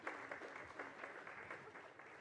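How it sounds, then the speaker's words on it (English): A summit panel audience claps in a brief, faint round of applause, steady and even throughout, with no voices over it. "Can we have a round of applause, please?"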